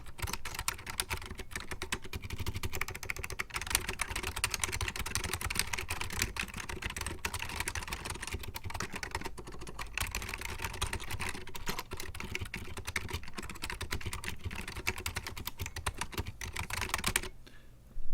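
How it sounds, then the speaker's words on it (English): Random typing on a computer keyboard produces a steady run of muted, dull key clicks at close range, continuing for the whole stretch with no talk and fading out near the end. "just some random typing"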